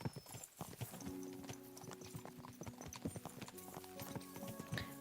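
Horse hooves clip-clop at a steady walking rhythm in the medieval open-world game Kingdom Come: Deliverance 2, close and fairly loud, with faint ambient tones beneath and no talking.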